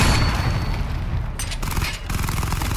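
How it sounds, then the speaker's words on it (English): A vehicle chain gun in Batman Arkham Knight fires a continuous loud barrage with heavy rumbling booms, the rapid fire holding for the whole stretch with only brief dips. "The chain gun's not powerful enough"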